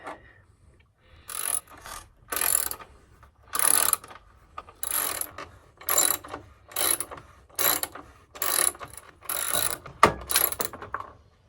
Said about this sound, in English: Now these bolts, if you recall, are 5mm. I'll just take these out.